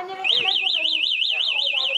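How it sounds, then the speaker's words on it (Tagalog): Loud electronic anti-theft alarm on a RedKingdom RK09-V2 e-bike, set off by the bike being pushed: a fast warbling siren that sweeps up and down continuously after a short lead-in, close and piercing. "once na ginalaw po yan, kahit isa lang, ma'am, mag-a-alarm po siya."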